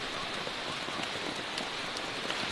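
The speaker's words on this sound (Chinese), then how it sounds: "再加上今天下雨，它活动的就频繁了" Steady rain falls in a tropical rainforest, a dense, even hiss of drops on leaves and surfaces, close and continuous with no voices.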